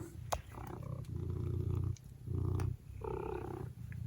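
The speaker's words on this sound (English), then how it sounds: "he just starts purring like this" A pet cat purrs loudly and close up, in rhythmic rumbling cycles with short pauses between breaths, each inhale and exhale clearly audible in the quiet room.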